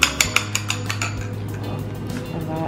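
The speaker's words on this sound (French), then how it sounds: "battre ça comme une omelette." Eggs beaten in a bowl for keto cake pops, with a utensil clinking rapidly against the side, starting as sharp distinct taps then settling into a quicker, softer rhythmic whisking.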